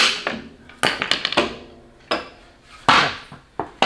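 Several sharp hammer blows strike at an uneven pace while fitting tracks on a VW trike, loud and close, with short pauses between hits.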